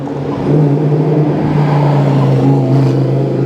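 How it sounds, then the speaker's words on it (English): An old Lamborghini drives past on a Sydney city street, its loud, steady engine drone rising near and then holding, with a low rumbling tone throughout. "Here comes an old Lamborghini?"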